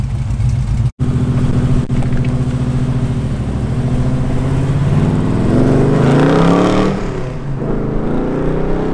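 A 1969 Chevrolet Nova's engine runs loud and close with a steady rumbling idle, then revs up and pulls away as the car drives off, the sound swelling and fading toward the end.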